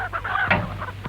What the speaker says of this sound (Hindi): मुर्गियों को रोको।